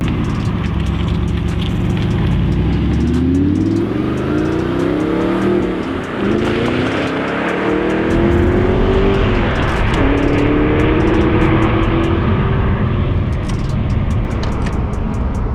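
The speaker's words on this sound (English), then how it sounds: "God, that gearbox sounds good." An Audi R8 engine pulls hard through its gears while driving, loud and close, the pitch climbing and dropping with each shift in a continuous, throaty rising roar.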